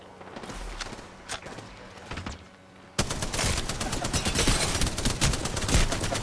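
Gunfire in Call of Duty Gun Game: a few distant shots at first, then a loud, dense stretch of rapid overlapping fire fills the second half, with brief speech in places.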